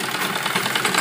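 A sewing machine runs a straight seam on a salwar, making a fast, even mechanical whir with a rapid stitching rhythm that carries on for a moment, close and fairly loud.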